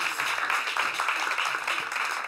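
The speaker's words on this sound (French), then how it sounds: "Venez, on peut l'applaudir pendant qu'il arrive." Applause from a French talk-show studio audience as a guest walks on, a steady dense patter of clapping holding even for the whole stretch with no voices over it.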